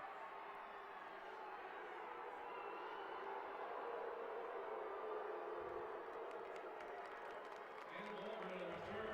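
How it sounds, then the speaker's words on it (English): Crowd at a high school state semifinal football game between Barnesville and JCC, a continuous distant roar of cheering and hollering under close commentator speech throughout. "Some hoots and hollers from the crowd."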